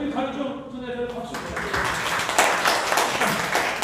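Lecture audience breaking into applause in a hall, a dense wash of many hands clapping that swells in after a second of speech and carries steadily to the end.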